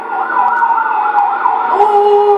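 Police siren in the video game The Last of Us, a loud steady wailing tone that holds on and shifts slightly in pitch near the end, with no talk over it.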